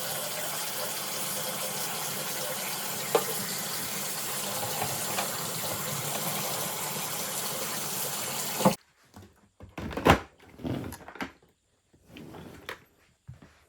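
Water pours steadily into the tank of a BISSELL SpotClean Pet Pro deep cleaning machine, a continuous close gush that stops abruptly, followed by a few clunks and plastic handling knocks.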